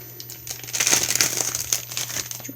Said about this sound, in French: Là, je déballe celui-ci